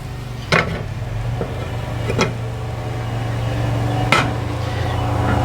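Metal grill grates and heat deflectors are lifted and set on a grill, giving three sharp, separate metallic clanks over a steady low hum.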